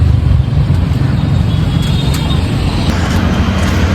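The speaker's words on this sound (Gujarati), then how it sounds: "ઓલું વિમાન આટલું બધું નજીક હતું યાર" A low-flying airplane roars overhead near the Sabarmati riverfront, a loud, steady, close engine rumble that fills the whole clip with no break.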